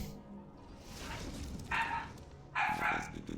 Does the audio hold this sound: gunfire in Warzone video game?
no